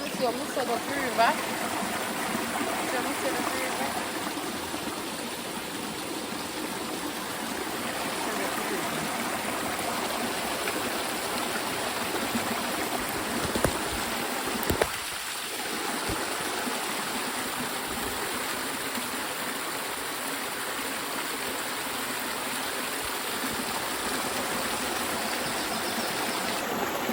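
A river in the Jamaican countryside flows past in a steady, close rush of water that stays loud and unbroken throughout, with a brief disturbance near the middle.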